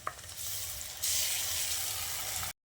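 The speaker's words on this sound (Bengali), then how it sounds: "এবার পেঁয়াজ আর রসুন বাটাটা দিয়ে আরও কিছুক্ষণ ভেজে নিচ্ছি" Onion and garlic paste frying in oil in a pan for a hilsa fish curry, a dense steady sizzle that jumps louder as the paste hits the hot oil, then cuts off abruptly.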